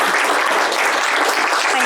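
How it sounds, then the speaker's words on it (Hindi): Loud, dense burst of audience clapping welcoming a mental health therapist guest on a talk show; brief, close and continuous with no speech on top. "ताली बजावे।"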